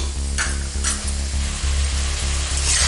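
Vegetables for street-style veg chow mein cooking hard over a high flame, a loud steady sizzle with a low rhythmic pulse and occasional brighter bursts as they're tossed, no voices.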